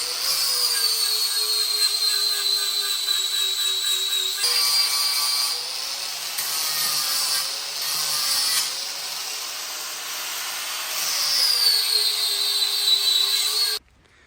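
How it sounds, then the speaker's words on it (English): Steady, loud power sander working over a mini bike frame, a continuous whining grind with harmonic tones that dips and shifts in pitch as pressure changes, then stops abruptly near the end. "I'm gonna sand all these things off here like that and those right there"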